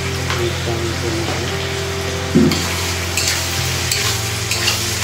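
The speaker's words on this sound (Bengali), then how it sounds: "টমেটোকে নাড়াচাড়া করে দিয়ে দেবো" Tomatoes fry in a pan for palak paneer and are stirred, a loud steady sizzle with one sharp scraping knock midway and softer stirring sounds, close with no talk and a low steady hum underneath.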